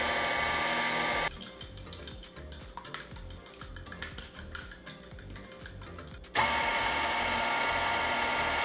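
An electric mixer whirs steadily as it beats cheesecake batter with sugar, cornstarch and vanilla, a close mechanical buzz with slight rattling that runs for about five seconds between louder stretches of background noise.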